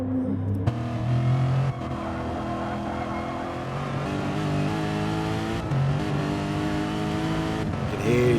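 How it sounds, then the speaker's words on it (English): A race car engine in a video game, on the Nurburgring GP circuit during an endurance race, revs hard and continuously, its pitch climbing and dropping through gear changes, loud and close throughout. "He's really revving this thing out, trying to get maximum speed."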